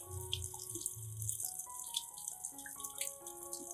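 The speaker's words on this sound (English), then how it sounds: "I'll rinse the entire plant under clean running water." Running tap water splashing as an orchid plant is rinsed under it, a quiet continuous patter with small drips and splashes against a tonal background, no voices.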